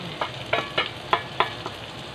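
Cooked tomato and onion fry in a pan for an eggplant omelette. About six quick spatula strokes scrape and stir the mix over a soft sizzle.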